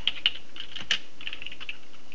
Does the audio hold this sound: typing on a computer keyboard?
yes